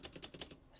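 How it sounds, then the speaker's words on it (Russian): Space bar pressed on a computer keyboard, heard as a quick run of about five sharp, close clicking keystrokes in an even rhythm, with a slightly softer tail at the end. "Пробел самый-самый шумный."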